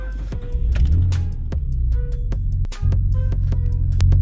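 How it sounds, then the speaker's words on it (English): A used Xcal X4 car starting up: the starter cranks, the engine catches and settles into a steady idle, close and fairly loud, with a few clicks and clunks around it. "got to start the car"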